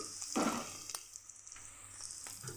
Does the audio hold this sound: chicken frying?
yes